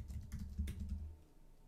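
Keys are tapped on a Mac keyboard while a password is entered, a quick short burst of soft clicks, close and quiet, trailing off.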